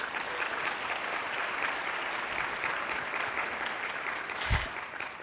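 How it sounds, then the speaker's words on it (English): An audience at a women's foundation annual luncheon breaks into steady applause, a dense even wash of many hands clapping in a large room, holding at a constant level throughout. "give yourself a clap for being out, for being supportive, and being a part of the Iowa Women's Foundation"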